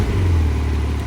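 A tuned Porsche 992 Turbo S engine in normal mode, exhaust valves closed, gives a short, loud, low-pitched hum and rumble as it fires up, with no voices over it.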